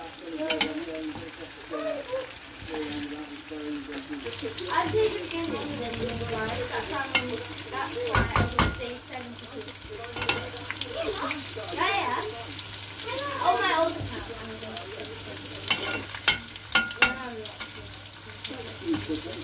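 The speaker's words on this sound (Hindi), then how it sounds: "अब हम इसको ब्राउन करते हैं चिकन को ताकि फ्राई टाइप हो जाए।" Chicken browning with ginger, garlic and spices in a pan for Baloch chicken, a soft sizzle under repeated stirring scrapes and clatters of a spoon, with a couple of sharp knocks midway and faint voices now and then.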